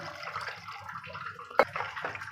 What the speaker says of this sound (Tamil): இப்போ ஒரு அரை சொம்பு தண்ணி ஊற்றிக்கலாம்